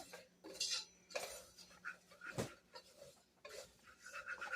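Spoon stirring a cheddar broccoli soup base in a saucepan, with soft metallic scrapes and clinks against the pot coming in irregular bursts, fairly quiet and close.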